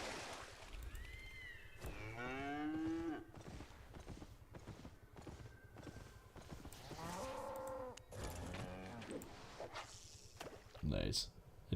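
A cow in the online fantasy game Albion Online gives several drawn-out moos in a row, with hoof-like clopping and other game sounds around them and a voice talking in the background.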